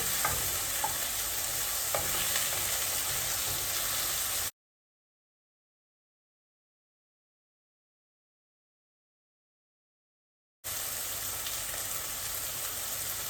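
Onions and tomatoes for pulao sizzle in a pan, a steady close frying hiss with faint stirring ticks, broken by a long stretch of total silence before the sizzle resumes.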